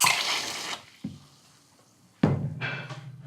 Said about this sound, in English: we're just gonna take our soda siphon and just finish it off with a little soda water